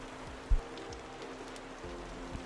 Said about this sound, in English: I have little rain noises playing in the background